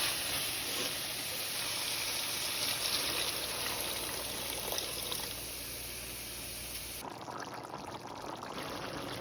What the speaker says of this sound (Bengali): এখন অল্প একটু জল দিয়ে দেবো, বেশি না, সামান্য পরিমাণে